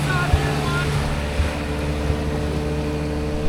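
A boat motor drones steadily on the water in the North Channel near Bayfield Sound, a low continuous hum with wind noise and faint voices.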